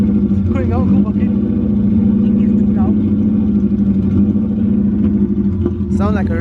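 A Subaru engine with a misfire, running with a steady, loud, rough drone and uneven pulsing throughout; a person speaks briefly over it.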